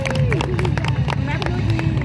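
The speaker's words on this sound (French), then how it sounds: "Allez, on applaudit les filles, on applaudit." An audience claps at a knights' tournament, a loud run of rapid hand claps mixed with crowd babble and a voice talking over it.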